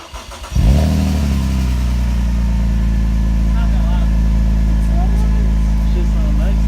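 Cold start of a BMW E46 ZHP fitted with an Active Auto Works exhaust: brief cranking, then the engine catches with a loud surge and settles into a steady, deep idle rumble close by, with voices faintly audible over it.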